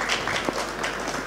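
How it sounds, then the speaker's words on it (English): An audience at a literary conversation event claps, a brief, dense wash of applause heard from within the room. "A round of applause"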